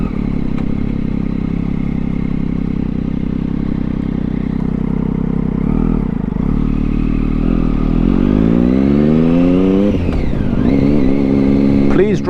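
A Triumph Daytona 675 motorcycle rides along a rough road at a steady low engine drone that climbs into rising revs near the end, with wind rumble and a voice talking over it.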